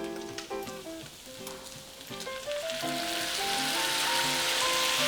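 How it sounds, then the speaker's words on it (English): Kimchi sizzles in a hot pan, the crackling hiss building louder and steadier, with faint background music underneath. "nice sizzle going on here."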